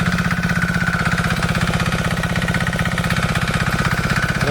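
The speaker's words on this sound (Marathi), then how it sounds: "तिकडे ट्रॅक्टर जमीन नांगरता" A tractor's diesel engine chugs steadily nearby while ploughing a field for rice sowing in Konkan, with a fast, even rhythmic pulse that never lets up.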